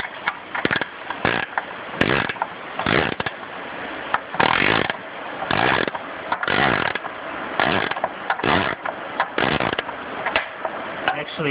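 A hand tool works a belt loose on a machine, giving repeated ratcheting, grinding bursts in an irregular rhythm, close and fairly loud with brief pauses between strokes.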